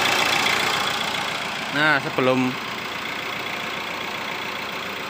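A Chevrolet Spin diesel car idles steadily while warming up before its injectors are removed, a close, even engine drone running throughout, with a brief spoken phrase partway through.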